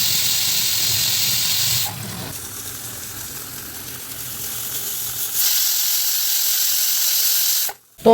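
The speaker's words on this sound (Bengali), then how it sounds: "এবার তরমুজটা ধুয়ে কেটে নিই।" Tap water runs steadily into a kitchen sink while a watermelon is washed, a close continuous hiss that shifts in tone as the flow is interrupted, ending with a brief clatter.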